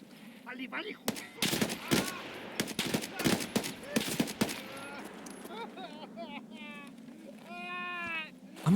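Gunfire from the shooter game Escape from Tarkov rings out as a rapid string of sharp, loud shots in quick bursts, followed by a voice speaking.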